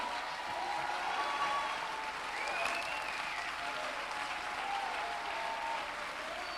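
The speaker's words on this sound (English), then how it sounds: "Somebody give the Lord a clap" A church congregation applauds in a large hall, a steady wash of many hands clapping, evenly sustained and somewhat distant, with faint voices underneath.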